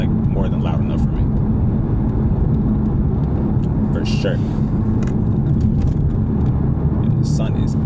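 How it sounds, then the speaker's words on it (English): Catless stage 2 BMW 440i engine warming up, a loud steady low rumble heard from inside the car, with someone speaking briefly over it. "Alright, car's warming up a little bit."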